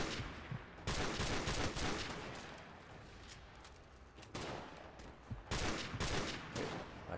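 Dense gunfire in Call of Duty 4 Modern Warfare Remastered on PlayStation 4, sustained bursts of shots rolling almost without a break and swelling in waves, loud and continuous.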